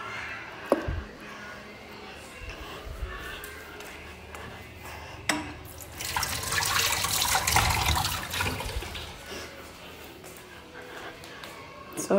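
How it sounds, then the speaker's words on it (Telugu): One litre of water pours into a pressure cooker full of chicken bones for bone broth, a rushing splash that swells for a few seconds near the middle, over quieter kitchen clatter and faint voices. "సో ఇందులోకి అయితే 1 లీటర్ వాటర్ మొత్తము."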